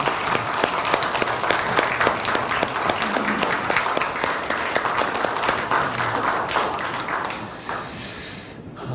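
Church congregation applauding the choir at a New Year's Eve service, sustained dense clapping from a large crowd at steady loudness for the whole stretch, tapering slightly near the end.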